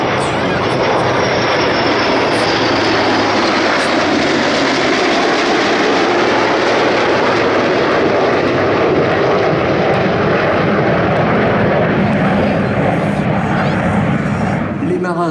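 A Rafale fighter jet roars past at an air show, a loud sustained broadband engine rush filling the whole stretch, with a public-address announcer talking over it.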